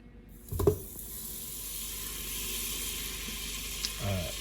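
Butter melting in a pan for a roux for truffle mac and cheese, giving a steady, soft sizzle and hiss with a couple of brief louder bursts.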